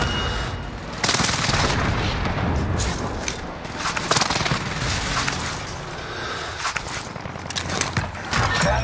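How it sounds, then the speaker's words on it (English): Rattling gunfire and dull explosion booms from an enemy precision airstrike in a first-person shooter match, dense bursts that keep coming through the whole stretch, loud and close. "Enemy precision airstrike"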